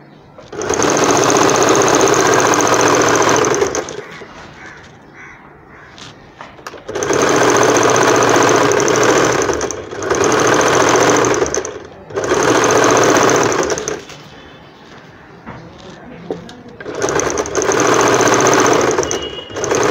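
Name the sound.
sewing machine stitching frock hem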